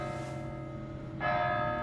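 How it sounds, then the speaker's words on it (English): Church bell tolling in Kingdom Come: Deliverance II, a steady ringing tone that swells louder partway through as a fresh strike lands, with no voices over it. "Oh, how many bells is that? That's the 9th bell,"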